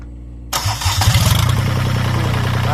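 An old Japanese ISEKI three-cylinder diesel engine cranks and catches after a brief pause, then settles into a loud, close, chugging idle with a rhythmic knock.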